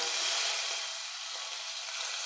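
Spice tempering is poured into chana masala and gives a bright, steady sizzling hiss throughout, close and fairly loud, with no talking.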